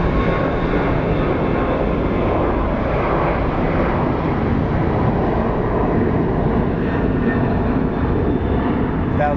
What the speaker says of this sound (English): That was a nice landing